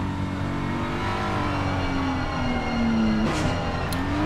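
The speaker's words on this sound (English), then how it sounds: "you can hear him going up and down through the gears" A race car in Assetto Corsa Competizione at Spa, its engine droning and shifting through gears, with pitch climbing then dropping sharply on a downshift near the end, no talk.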